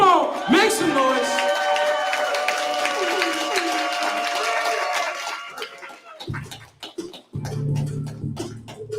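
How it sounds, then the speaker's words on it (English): A commencement audience claps and cheers for a student named Irene, with loud applause and whoops building over several seconds. A voice over the crowd follows, then the noise thins out near the end. "Clap it up for Irene. Come on, make some noise."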